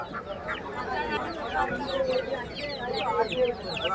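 Kadaknath chickens cluck at a Kolkata pet market, a busy overlapping chorus of short clucks over crowd murmur and nearby voices.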